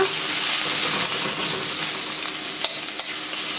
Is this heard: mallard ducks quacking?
no